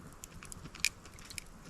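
Close, quiet bites and chewing on smoky barbecued food cooked over a campfire, glazed with Japanese barbecue sauce, with soft scattered crunches and one sharper crisp bite mid-way.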